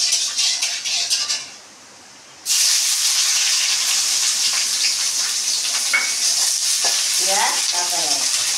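Onion and green chillies with black cumin seeds hiss and sizzle loudly in hot oil, a dense steady frying roar that dips briefly near the start and then carries on, with a short voice underneath toward the end.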